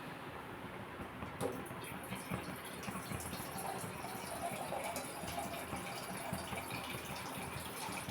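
Water poured from a small vessel into a cooking pot for semiya and broken red wheat upma, a steady broadband gushing that runs throughout at moderate level, with no talk.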